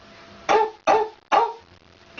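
A girl imitates a dog barking, giving three short, sharp vocal barks in an even rhythm, close and loud, with brief pauses between them.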